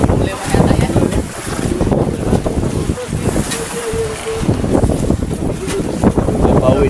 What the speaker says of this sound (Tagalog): Pauwi na bangka